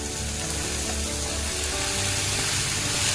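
Fresh spinach and browned mushrooms sautéing in a pan, giving a steady, fairly loud hiss of sizzling that runs unbroken throughout, with no one speaking.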